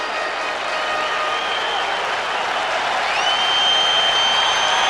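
A baseball stadium crowd roaring during a 1992 World Series game between the Atlanta Braves and Toronto Blue Jays, a loud, dense, sustained roar with a tone rising in pitch toward the end.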